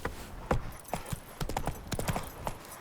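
Roach, Geralt's horse in The Witcher 3: Wild Hunt, gallops with a quick, uneven run of hoofbeats thudding close by, mixed with the rattle of tack and a brief snort.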